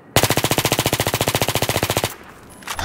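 FAMAS rifle in Battlefield 3 firing a single sustained full-auto burst of about two seconds, rapid and evenly spaced shots, loud and close, then a brief lull with faint game ambience.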